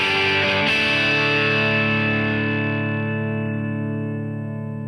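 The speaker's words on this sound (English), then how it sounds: "Oh yeah, distortion." A guitar chord rings out through the distortion mode of a Fender Tone Master Pro, struck once with a gritty, saturated attack that sustains and slowly fades.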